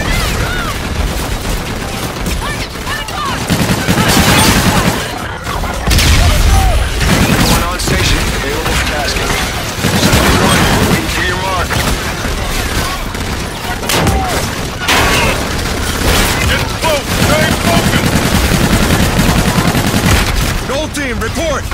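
Heavy automatic gunfire and booming explosions in Call of Duty: Infinite Warfare, a loud sustained battle with bursts and blasts throughout, mixed with radio voices talking over the fighting.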